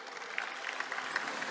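An audience claps at a 2023 scholarship awards ceremony, producing a steady, dense patter of applause from a moderately sized crowd throughout, with no pauses.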